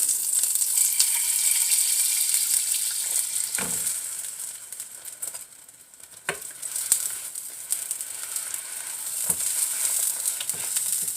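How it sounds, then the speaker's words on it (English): Food sizzles steadily in butter in a pan, a continuous bright crackling hiss with a few soft knocks and scrapes of a utensil, no talking. "put a little more butter in the pan and do the other side"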